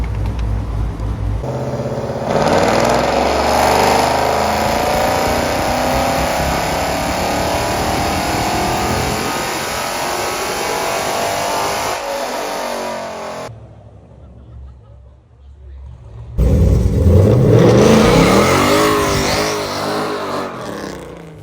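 Dodge Challenger fitted with a stage 2 cam revs hard from 2,000 up to 6,000 RPM, a loud sustained rising engine roar. It cuts to near silence briefly, then snaps back loud.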